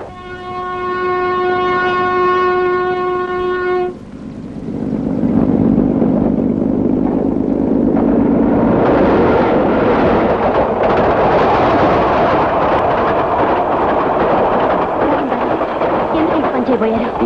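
A train sounds a long, loud horn blast, then rumbles past up close in a heavy, continuous roar of wheels and carriages, set in a Telugu film scene.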